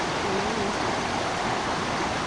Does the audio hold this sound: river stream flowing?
yes